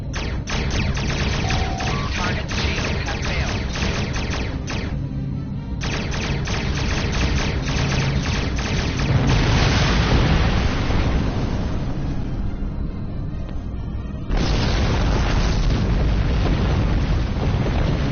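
Star Trek Online starship battle against Klingons: loud, dense bursts of weapon fire and booming explosions rolling continuously, with brief lulls between barrages, close and heavy throughout.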